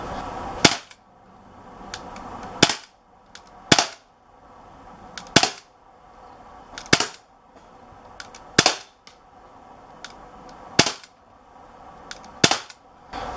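An Umarex Walther PPQ .177 CO2 pellet pistol fires eight sharp, evenly spaced shots about two seconds apart, each a crisp close crack with quiet gaps between them.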